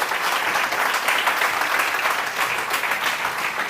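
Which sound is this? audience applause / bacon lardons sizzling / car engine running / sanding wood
audience applause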